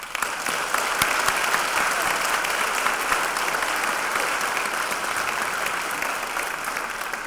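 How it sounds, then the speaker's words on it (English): An audience claps steadily and loudly for several seconds, a dense wash of applause that slowly tapers near the end. "So your applause, please."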